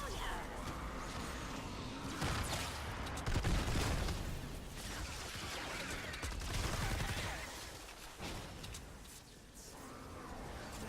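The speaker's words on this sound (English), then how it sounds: "Here I am just spamming hip fire." Rapid hip-fire gunfire in the video game Fortnite Save the World, a dense, continuous fusillade of shots and booms mixed with game noise and a voice talking over it, steady and fairly quiet throughout.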